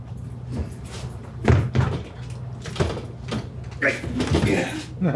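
A locked door is rattled and tried on a theatre stage during a performance of Comedy of Errors, with several hollow thumps and knocks at uneven intervals over a low hum and faint stage voices.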